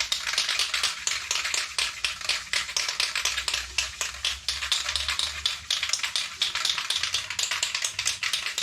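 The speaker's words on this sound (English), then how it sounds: "So I'm going to shake this up a little bit," An aerosol can of motorcycle chain lube, used for servicing a Nighthawk 750 chain, is shaken hard, its mixing ball rattling in rapid, steady clicks that run close and continuous throughout.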